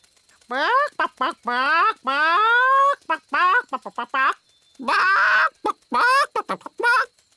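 A cartoon character voices a chicken, imitating clucking and squawking in a rapid string of expressive, pitch-bending bursts with brief pauses between them. The voice is loud and close.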